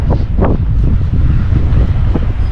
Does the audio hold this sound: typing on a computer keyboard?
no